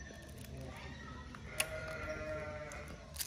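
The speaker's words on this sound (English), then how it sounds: "We're being serenaded by a goat." A goat bleats outdoors in Hilo on Hawaii's Big Island, wavering calls over a low background murmur with a faint voice in the distance.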